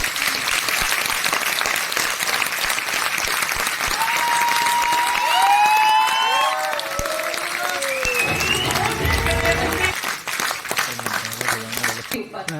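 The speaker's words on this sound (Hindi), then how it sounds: "और ये जो दिखा सकते हैं अपना जोश? यस जोरदार तालियों के साथ।" Energetic audience applause at a motivational seminar, a dense, continuous clapping crowd with scattered cheers and whoops, loud throughout, while a voice rises briefly over the noise.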